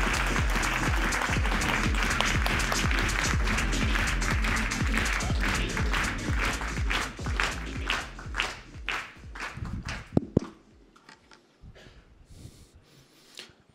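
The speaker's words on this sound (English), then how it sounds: "Give him a warm applaud" A conference audience at a textile industry event applauds a founder and CEO coming up to speak, with dense, loud clapping that holds steady before thinning out into scattered claps and fading away.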